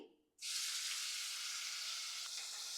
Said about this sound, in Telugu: పైనాపిల్ అయితే ఒక వన్ మినిట్ ఫ్రై చేసుకున్నానండి